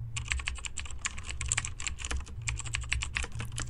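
Fast, steady typing on a computer keyboard, a dense run of light clicking keystrokes close up with a soft low hum beneath and no talking.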